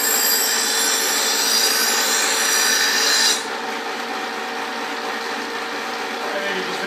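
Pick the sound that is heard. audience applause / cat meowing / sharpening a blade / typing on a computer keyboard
sharpening a blade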